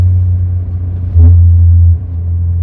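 Low engine rumble inside a 1990 Eagle Premier ES sedan while driving, a steady drone that swells louder for about a second midway before settling back.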